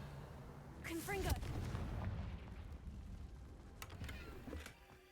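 Confringo fire spell blasts in the video game Hogwarts Legacy, a couple of sharp booming bursts with crackling decay over faint background ambience, with a voice speaking briefly before the first blast.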